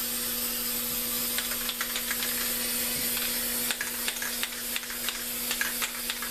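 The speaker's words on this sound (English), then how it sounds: "spray over the top of all that" Black spray paint hisses steadily from an aerosol can onto canvas for nebula art, a continuous broadband spray with brief bursts and faint rattles, close and fairly loud with a low steady hum beneath.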